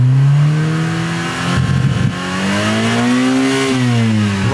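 An abandoned Honda Civic engine revving hard on nitrous, a loud close roar whose pitch climbs, dips with a rough clattering patch, then surges again and falls away.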